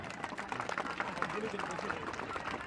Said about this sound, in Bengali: তার জন্য একটু জোরে করতালি।